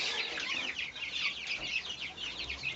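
Young quail chicks in a brooder make a continuous chorus of high, rapid peeping and chirping. It is close and fairly loud, with no voices over it.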